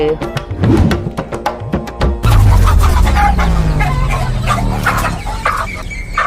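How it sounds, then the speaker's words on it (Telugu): A chicken clucks and squawks in agitation as it is caught, with loud, close, rapid cackling bursts that turn into frantic flapping and distressed calls, with voices speaking alongside. "మరి కోడిని పట్టుకో సరే"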